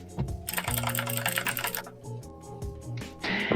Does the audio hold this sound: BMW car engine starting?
no